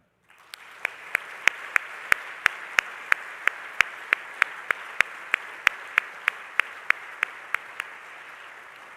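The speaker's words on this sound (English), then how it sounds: "join me in a round of applause for all of the incredible donors thus far" Audience clapping at a family campus dedication ceremony, a steady wash of applause sustained for about eight seconds with sharp individual claps punctuating it in a regular beat, moderately loud and without talk.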